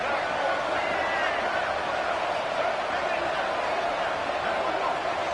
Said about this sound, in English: This Boise State crowd bringing the noise. It's deafening here on third down.